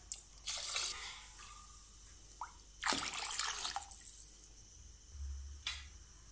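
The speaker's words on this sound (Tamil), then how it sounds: "இப்போ நம்ம தண்ணி ஊற்றிக்கலாம்." Water poured into a pot with spices for a herbal tuber soup, splashing and trickling in a few separate bursts with short pauses between, fairly quiet and close.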